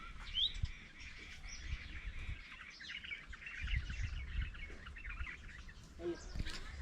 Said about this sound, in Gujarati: જો કેવા સરસ ચકલા બોલે છે ચીકુડી ઉપર આજ તો